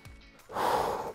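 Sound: heavy breathing during workout rest

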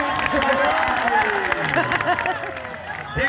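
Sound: applause for the Ayodhya wrestler at a kushti match

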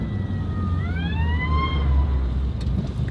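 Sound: ambulance siren passing

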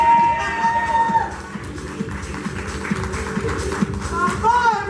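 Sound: applause

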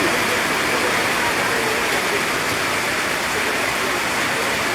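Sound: heavy rain pouring down

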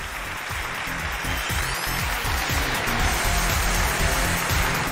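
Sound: studio audience applause welcoming a couple

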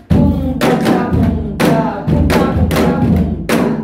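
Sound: janggu drum playing a trot song rhythm

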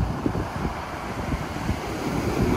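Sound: strong sea waves on the Black Sea beach in Sochi

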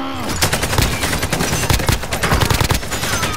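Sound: AK rifle gunfire in a video game (Payload)

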